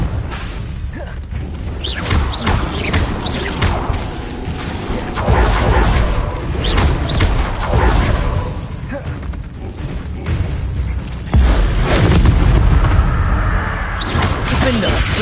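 Spells cast in combat in Hogwarts Legacy on PS5, a dense run of whooshes, crashes and booming impacts layered with game effects and a voice calling out incantations.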